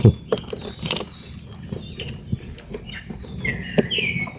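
Outdoor ambience in Pasong Bancod, Indang, Cavite, with scattered bird calls and chirps, including a clear warbling call near the end, among small knocks and rustles.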